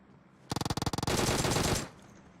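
Gunfire in the battle-royale game PUBG: a rapid burst of about ten evenly spaced automatic shots, then a dense roaring volley lasting under a second before cutting off, loud and close with no talk over it.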